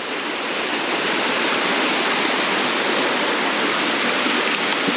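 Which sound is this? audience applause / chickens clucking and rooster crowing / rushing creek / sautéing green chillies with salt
rushing creek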